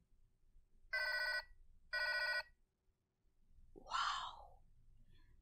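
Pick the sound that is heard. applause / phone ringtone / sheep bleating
phone ringtone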